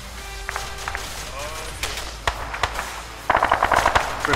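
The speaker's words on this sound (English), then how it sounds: "Repeat, lots of gunfire." Gunfire in Arma 3 sounds as scattered sharp shots, then denser rapid bursts toward the end, near and loud, with voices talking over part of it.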